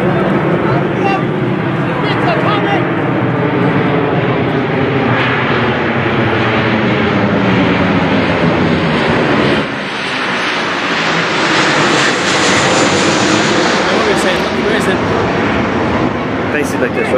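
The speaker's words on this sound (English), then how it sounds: "planes and all the motors" A propeller airplane passes overhead near a football match, its loud, steady engine drone rising and falling over about seventeen seconds while people talk nearby.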